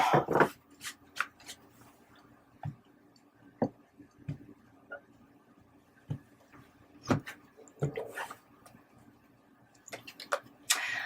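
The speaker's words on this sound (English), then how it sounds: "I'm going to have to shuffle that again, or ruffle that again" Tarot cards being shuffled and riffled by hand at a table, heard as scattered soft flicks, taps and brief riffling bursts with quiet gaps between them, close and fairly faint, no talking.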